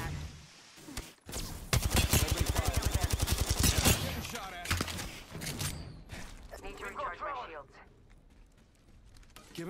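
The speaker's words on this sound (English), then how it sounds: "Getting shot at." Rapid automatic gunfire in a shooter video game, a dense rattling burst of shots lasting a couple of seconds, followed by scattered game effects and a voice speaking.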